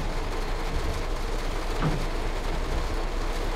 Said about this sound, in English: I love the sound of the rain on the roof.